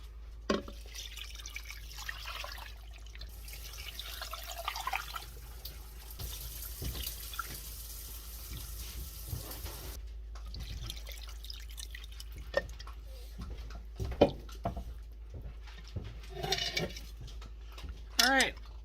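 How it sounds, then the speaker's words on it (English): Water runs into a pot holding turkey bones, onions, celery and green onions for bone broth, a steady close pouring and splashing with drips and a few clinks of the pot, stopping and resuming partway. "now I'm going to cover it with water"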